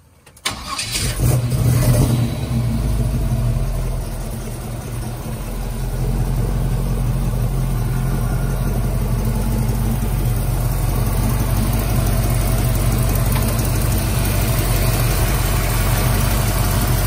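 A 1933 Plymouth Custom car engine cranks and catches within the first second, revs briefly, then settles into a steady, close, loud idle that runs smoothly to the end.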